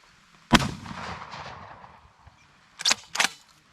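A shotgun firing flame rounds outdoors at a branch just ahead: one loud close blast with a long rumbling tail, then two more sharp shots in quick succession near the end.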